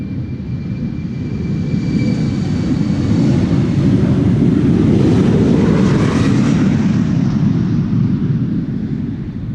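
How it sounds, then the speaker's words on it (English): A KLM Embraer 190 jet, about ten years old, roars steadily and loudly with broadband engine noise that swells toward the middle and eases slightly at the end, no voices present. "This is KLM Flight 12333 Embraer 190 to Göteborg"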